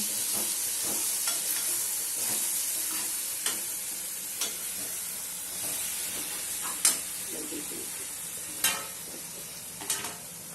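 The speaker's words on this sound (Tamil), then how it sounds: "இப்போ அதை நல்லா கிளறி விட்டுக்கலாம்." Prawn gravy is stirred in a frying pan, a steady sizzling hiss broken by sharp spatula knocks against the metal, close and continuous, with no voices.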